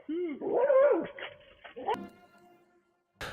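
A fierce guard dog confronting a delivery courier lets out high whimpering whines and yips, then a few sharp, loud barks up close.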